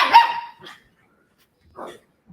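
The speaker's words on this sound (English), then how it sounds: "There's that bark." A dog gives one loud, close bark at the start, then a softer yelp follows. After a quiet gap there is a short, muffled burst of sound, and no one speaks.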